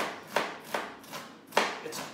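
Half an onion being thinly sliced with a knife on a board for prawn linguine, a handful of distinct, close chopping taps at uneven intervals, fairly quiet, with no talking.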